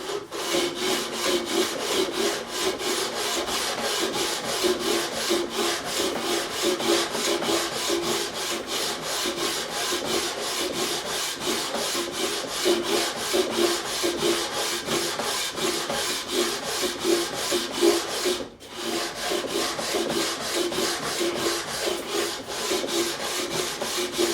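240-grit sandpaper rubs back and forth across a bouzouki fretboard in steady, rapid close strokes, continuing for a long stretch with one brief pause.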